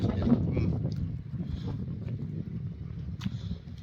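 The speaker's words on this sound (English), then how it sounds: "It's too windy here. Too windy for me." Strong wind blows outdoors and rumbles hard against the microphone in a low, continuous roar, with a voice faintly mixed in.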